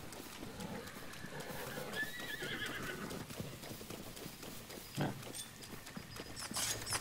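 Horses in the Zelda: Breath of the Wild video game neigh and whinny amid steady hoof clip-clops, the calls standing out over a constant game ambience with no talk.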